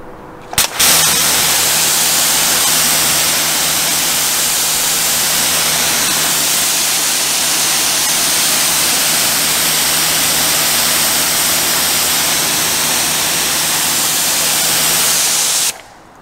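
A water hose sprays steadily to rinse a car after a quick detailer wash, giving a loud, continuous hiss of running water from start to finish.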